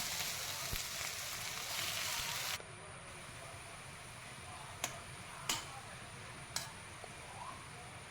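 Washed greens wilting in a pan with salt and chilli make a soft, steady sizzle close by that thins out partway, followed by a few sharp isolated ticks and pops.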